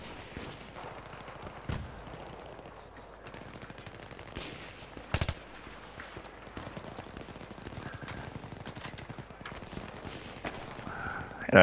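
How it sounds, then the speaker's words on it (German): Gunfire in the video game Battlefield 3 comes as scattered sharp shots and short bursts over a low background, with one louder crack standing out partway through. "der steht direkt vor mir und schießt an mir vorbei"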